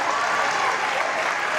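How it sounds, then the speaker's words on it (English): Audience applause at a school Thanksgiving assembly, a dense steady clapping from a large crowd held at an even level throughout. "Hey, big round of applause for Mr. Jacobson and Ms. Gillespie."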